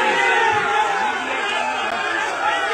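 A dense crowd of PTI workers gathered at Zaman Park for an Iftar event, chattering loudly with scattered cheers, a steady close-up roar of many overlapping voices throughout.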